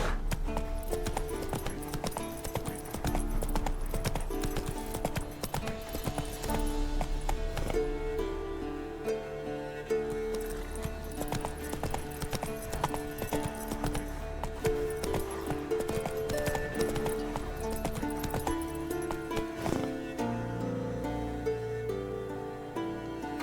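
Horse hooves clip-clop steadily as a mount is ridden in the video game The Witcher 3, a continuous rhythmic trot over a bed of music, with a brief voice urging the horse on.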